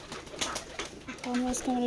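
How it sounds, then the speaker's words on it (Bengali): Pigeons cooing at a village pigeon farm in Jessore, soft low coos and rustling close by, ending in a couple of clearer rising calls, with a voice speaking briefly over them. "কবুতর।"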